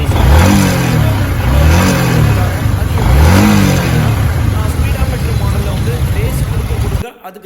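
A Yamaha R15 motorcycle engine revs three times in rising and falling sweeps, loud and close, then cuts off abruptly near the end.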